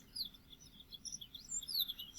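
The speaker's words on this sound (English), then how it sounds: "See, here's the yellow-fronted canary." A yellow-fronted canary sings a quick run of high, thin chirps and twittering phrases outdoors, fairly close and steady over a quiet background hum.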